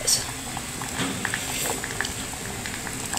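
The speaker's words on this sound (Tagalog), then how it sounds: "habang pinapakuluan natin yung ating paksiw" Paksiw fish stew bubbling in a pan, a continuous soft boiling hiss with small pops, while a voice talks over it.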